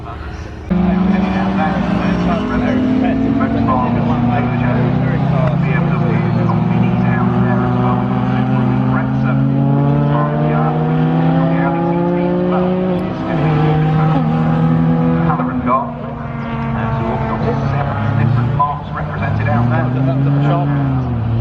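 Race cars roar around Snetterton circuit on a track day, engines droning loudly and continuously with rising and falling pitch as cars pass close by, with a voice talking over them.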